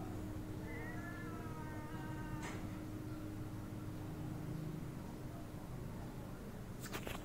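A faint stray cat meow rises and falls over steady outdoor background hum, with a couple of brief clicks.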